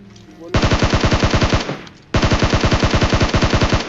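Bots at a military base in a shooting video game open up with two long bursts of rapid, evenly paced automatic gunfire, loud and close, separated by a brief pause.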